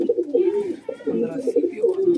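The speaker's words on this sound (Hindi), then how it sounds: "देखो जी ये रहा कबूतर" A pigeon coos in soft, repeated throaty bursts close by, with someone speaking over it.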